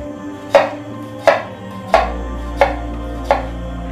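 Five sharp knife cuts into an onion strike a board at an even pace, each a crisp close tap with a short decay, alone with no talk.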